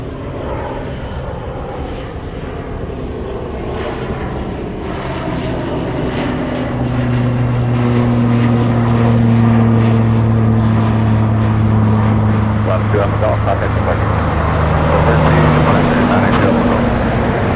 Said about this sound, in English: Let's go for the next takeoff. Look, we have another prop already in the air.